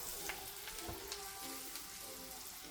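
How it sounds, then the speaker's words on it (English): Onions sauteing in a pot for potato soup, a faint, steady crackling sizzle with light scattered pops and no voices. "get the onions in there and let them saute down a little bit"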